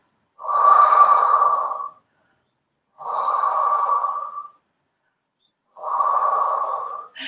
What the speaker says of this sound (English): Let's take a couple of deep breaths.